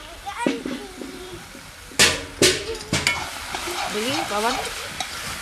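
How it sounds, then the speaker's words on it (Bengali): Bottle gourd curry (lau ghonto) with coriander leaves is stirred and mashed in a pan: scraping and sizzling with a cluster of sharp spoon knocks midway. Voices talk over it, a child among them. "ঘেটে ঘেটে দিচ্ছি, ঘন্ট মানেই ঘেটে দেওয়া।"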